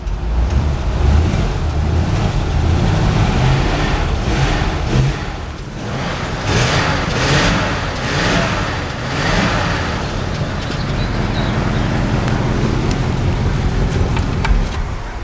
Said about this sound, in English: this one still has the single exhaust pipe and it sounds very nice